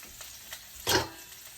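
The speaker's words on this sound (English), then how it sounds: "Putting back the salmon into the pot." Salmon slices for teriyaki go back into a hot pot, giving a short burst of sizzling and stirring noise that swells and fades after a few faint clicks.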